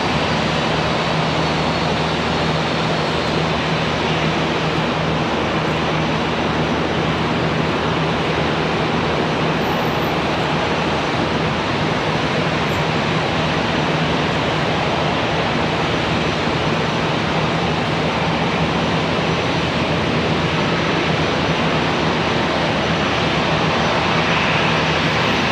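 Airliner arriving at Charlotte Douglas airport after an emergency return, heard as a loud, steady broadband roar of jet engines and rushing air that holds constant for the whole stretch.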